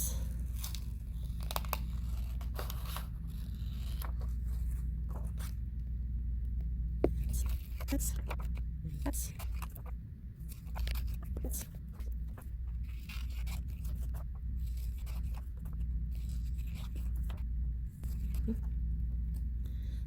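Scissors cutting two large squares out of card stock along thick black lines, a steady run of close crunching snips and scraping paper over a constant low hum.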